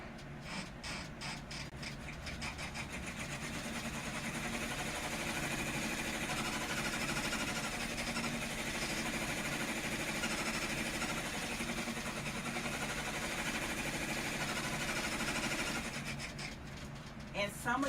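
An embroidery machine stitches out letters on fabric, a fast steady mechanical whirring and rattling hum that runs continuously through the middle, starting and stopping with clicks at each end.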